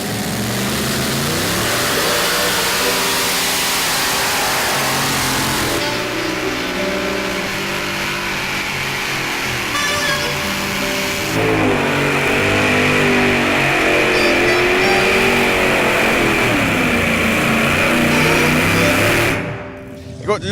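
Multi-engine blower-supercharged drag racing tractors at a Festidrag pulling event rev loudly and continuously, several engines roaring and surging together, with an announcer's voice faintly under the din.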